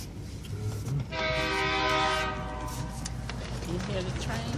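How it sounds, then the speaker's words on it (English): A train horn sounds one long blast over the low rumble of a passing train, with ambient noise around it. "Can you hear the train?"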